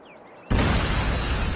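A sudden loud explosion bursts in after a brief quiet moment, followed by a sustained roaring blast that fills the rest of the clip, in the video game Call of Duty Mobile.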